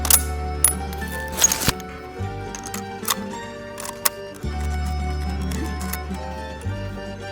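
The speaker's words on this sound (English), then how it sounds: "When loading these one by one, if you push too far in and it goes too far down for the bolt to catch it" Cartridges pressed one by one into a Mosin rifle at a shooting range, giving a series of sharp metallic clicks and snaps spaced irregularly over a steady background hum.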